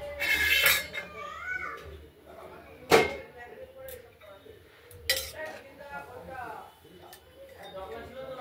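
A lid is set onto a kadai holding king prawns with a metallic clink of cookware, among several sharp clatters of utensils and pans, with a voice speaking quietly between them.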